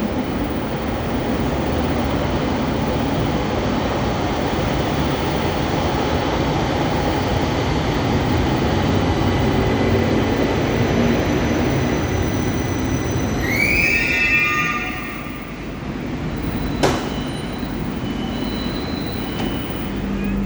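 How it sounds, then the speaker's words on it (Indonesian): A Jabodebek LRT light rail train in Jakarta rumbles steadily close by, wheels squealing briefly near the end as it slows into the station. "Persiapan tiba di jalur 3 adalah kereta LRT Jabodebek tujuan stasiun Harjamukti."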